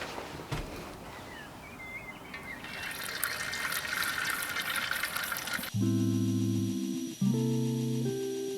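A hot knife blade is plunged into vegetable oil for quenching, giving a bubbling sizzle and hiss for a few seconds before music takes over.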